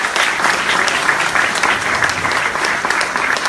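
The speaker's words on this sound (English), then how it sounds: "How about a big round of applause to the great band?" Sustained applause from an outdoor audience at a waterfront barbecue, cheering a live band; steady, dense clapping at full volume throughout with no talk over it.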